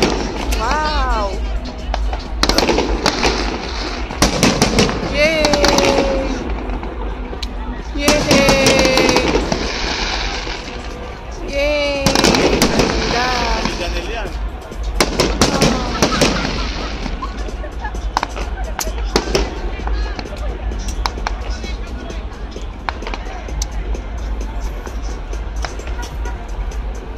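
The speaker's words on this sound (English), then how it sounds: "Sila nalilugi kasi lagi sila nagpapa-fireworks." Fireworks going off repeatedly in irregular bursts of sharp cracks and booms at a 7 o'clock show, with excited voices and cheering heard over the explosions throughout.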